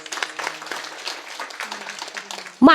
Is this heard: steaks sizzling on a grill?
no